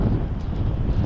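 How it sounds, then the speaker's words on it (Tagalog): Strong tropical storm wind (Uwan, Signal No. 5) at Dinahican, Infanta, Quezon: a loud, continuous, gusting roar buffeting the microphone throughout, with no voices. "Dito na ang hangin."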